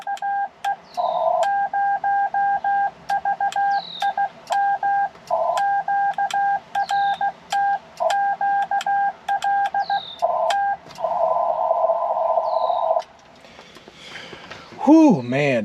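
Morse code tones from a paddle keyer on a ham radio during a Parks on the Air outing in Minnesota: a steady, clean beep keyed in quick rhythmic dits and dashes, ending in a long dash run before someone briefly speaks.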